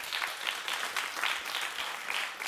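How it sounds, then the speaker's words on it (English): A studio audience at a daytime talk show applauds continuously, a dense wash of many hands clapping that holds steady and fairly loud throughout, with no speech over it. "clap if you think it's worth it"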